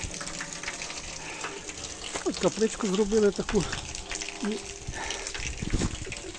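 Spring water flows steadily beside a small chapel at an outdoor spring, a continuous close gush running under a man's speech.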